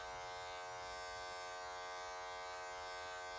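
Electric hair clippers fitted with a 1 guard, lever open, buzz steadily and faintly while cutting hair during a low taper haircut, with an even tone and no talking.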